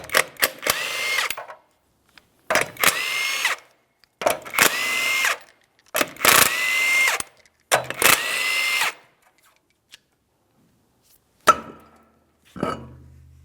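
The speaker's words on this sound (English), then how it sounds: "We're going to remove all 5 of our 21mm lug nuts so we can remove the wheel." A power tool spins off the 21mm lug nuts on the front wheel of a 2003-2008 Toyota Matrix, five loud bursts of whirring drill noise separated by short silences, followed by a couple of faint clanks.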